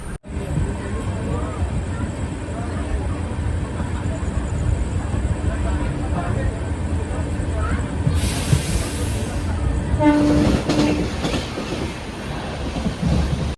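The Sealdah–Banaras Amrit Bharat Express rumbles into Durgapur station at night, with a steady heavy roll of wheels on rails. Brief hisses and squeals of braking come near the end, and a voice talks over it.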